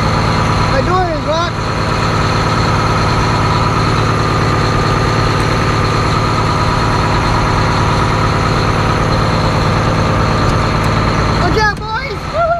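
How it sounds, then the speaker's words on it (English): A big truck engine idles loudly and steadily nearby with a deep continuous rumble, while a voice briefly breaks in near the start and again at the end. "My truck is raging, that's why it's so loud."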